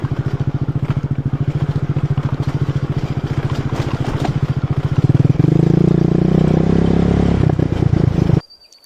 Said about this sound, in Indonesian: Motor yang saya kendarai harus berjalan lebih pelan